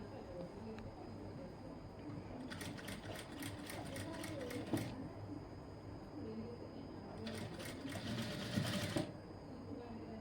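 A sewing machine stitches gold thread piping onto lining cloth in two rapid bursts of close, rattling needle strokes, separated by a quieter pause, with a voice speaking softly throughout.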